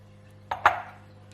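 A spoon stirs chicken marinade with corn flour in a bowl, giving two brief knocks and a soft scrape close by, with no talk.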